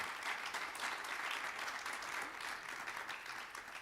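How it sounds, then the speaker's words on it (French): Audience applause after a talk on blogging as a communication tool, continuous crowd clapping at moderate level with no pauses. "On peut les applaudir, effectivement."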